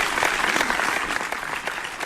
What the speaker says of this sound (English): the people clapped, it was awesome